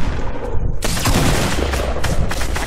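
Rapid gunfire from Fortnite gameplay in South Africa, a dense burst of overlapping shots that starts abruptly after a quieter moment and stays loud and continuous with sharp cracks throughout.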